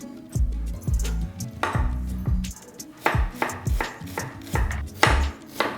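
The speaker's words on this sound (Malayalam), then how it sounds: "അത് പൊടി പൊടിയായിട്ട് തന്നെ അരിഞ്ഞെടുക്കണം." An onion is finely chopped with a knife on a board, giving sharp close thuds in quick irregular bursts with short pauses between, and no talk.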